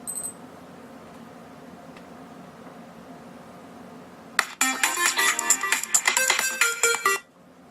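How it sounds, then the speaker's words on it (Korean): Alert tone from a phone, triggered by the phone-finder on a Casio G-Shock GWR-B1000 watch, rings out loud and close for about three seconds as a rapid, bright, repeating melody after a quiet stretch. "핸드폰이 근처에 있을 경우에 이렇게 알림음을 울려줘서 핸드폰 위치를 확인할 수 있고요"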